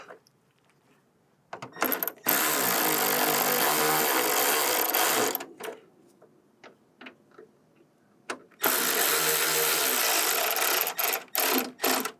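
A power screwdriver drives a screw into an expanding plastic trunk fastener on a 1997-2006 BMW E46. Two loud, steady whirring bursts of several seconds each are separated by quiet clicks and handling noises.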